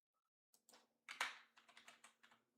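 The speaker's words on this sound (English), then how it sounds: "I was typing something else up" Close, quiet keystrokes on a computer keyboard, arriving as a short irregular burst of clicks with no one talking.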